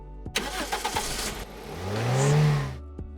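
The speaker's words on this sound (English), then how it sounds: "when it activates, you'll hear a car engine." Car engine sound effect played through Realme Buds Air earbuds on entering game mode: a quick starter crank followed by a rising rev that swells loud, then cuts off abruptly.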